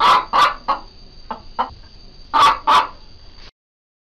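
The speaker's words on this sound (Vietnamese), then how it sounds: "Gà mẹ tìm mồi." A hen clucks in a series of short, loud, close calls at an uneven rhythm, some in quick pairs, before stopping into silence.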